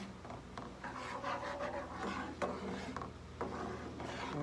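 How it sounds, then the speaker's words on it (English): Pasta being stirred in a pan for a lemon garlic dish with chicken and spinach: continuous scraping and rubbing of a utensil, with irregular louder strokes and clicks, close and steady, no talking. "Stir this around a little bit."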